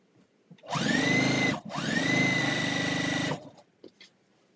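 A sewing machine stitching a quilt in two close, loud runs of steady whirring motor sound, separated by a brief pause, then quiet with faint handling noise.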